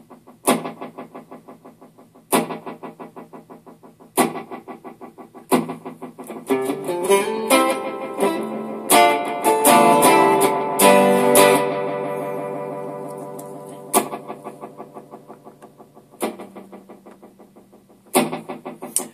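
Electric guitar notes run through a delay circuit built on two PT2399 chips, with plucked phrases at the start and end and a dense swell of repeating echoes building and fading in the middle, no talking.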